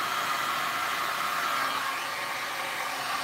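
A hair dryer blows colored resin paint over a Stone Coat base tint to open up cells, giving a steady, loud rush of air that does not change in strength. No voices are heard.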